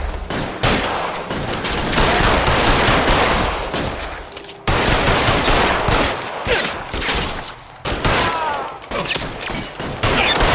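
Gunfire in an L.A. Noire shootout, aimed at car tires: a sustained, loud fusillade of rapid shots, close and dense, with brief breaks near four and eight seconds before the volley resumes.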